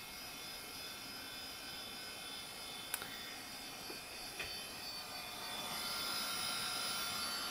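The cooling fan of a Dell OptiPlex GX110 desktop computer whirs with a faint, steady airy hiss, broken by a couple of brief clicks.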